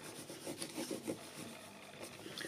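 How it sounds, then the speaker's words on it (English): A bone folder rubs over the back of a paper die cut, making soft, close scraping strokes in an uneven rhythm. "I use my bone folder to make sure it sticks. So from the back you rub over it"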